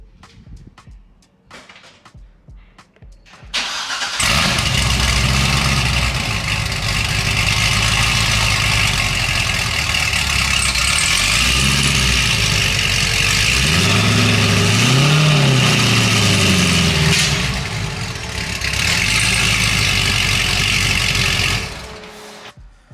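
Corvette C6 ZR1 engine cranking and firing up after a few short clicks, then a loud close idle with a couple of rising and falling revs before it cuts off near the end.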